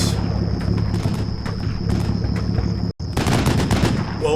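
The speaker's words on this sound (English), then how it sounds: "it looks like our APC is targeting the sniper team" Sustained automatic gunfire from an APC targeting a sniper team in the Combat Mission Cold War video game, dense rapid bursts over a steady battlefield din, with a momentary dropout before the firing resumes.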